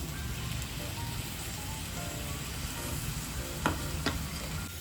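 Spinach puree going into tomatoes sautéing in a hot pan for palak pulao, a soft steady sizzle and frying hiss with a couple of sharp stirring clinks near the end.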